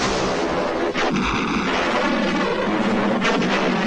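A truck blows up in a Terminator film, loud and sustained, with a heavy rumbling roar across the whole stretch and a couple of sharper bursts layered on top.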